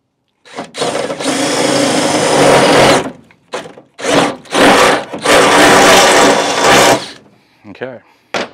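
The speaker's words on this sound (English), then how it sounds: "then we're going to drill the other 2 holes out." A power drill drilling holes in a Toyota Tacoma truck bed whines in several bursts of varying length, loud and close, with short pauses between each run and a brief clatter at the end.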